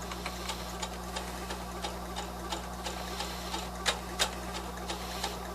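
A sewing machine stitching cording with a zipper foot for a fabric turkey pin cushion, a steady mechanical whir with rapid regular ticking of the needle, close and alone.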